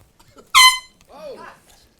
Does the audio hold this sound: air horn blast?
yes